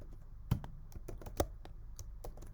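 Code being typed on a computer keyboard, with a quick, uneven run of close, soft key clicks and a couple of heavier taps.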